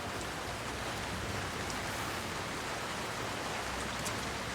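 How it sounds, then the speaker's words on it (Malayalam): Rain falling steadily, a dense even hiss of drops with no pauses or rises, heard alone without voices. "കറക്റ്റ് മഴ"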